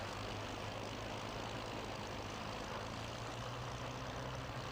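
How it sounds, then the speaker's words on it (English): Several propeller engines of the Los Halcones aerobatic display team start up almost together at an air show, giving a steady, loud droning roar with a low engine hum throughout. "They start their engines at exactly the same time, well, almost."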